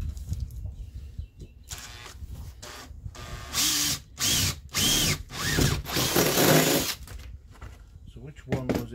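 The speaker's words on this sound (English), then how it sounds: "holding it tight while I drilled the holes." A power drill bores holes through a template on a VW Crafter van in a campervan build, running in several short loud bursts separated by pauses, with a voice speaking between them.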